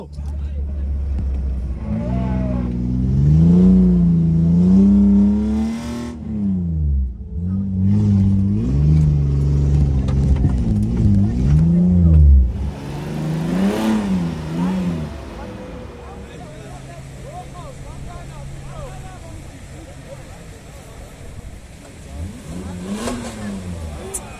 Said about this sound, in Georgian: მანქანა, მესამე მანქანა ამოვიდა.